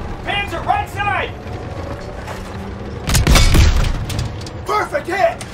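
A Panzer tank battle in Call of Duty WWII, with mechanical clanks and rumble, then a heavy booming impact midway followed by a burst of metallic noise; voices speak briefly near the start and end.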